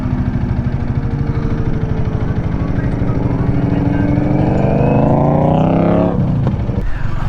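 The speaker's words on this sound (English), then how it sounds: "It's too noisy, that bike." A loud motorcycle rumbles close by with a steady throbbing engine note, then rises in pitch as it revs and passes, fading out near the end on a roadside where bikes pass often.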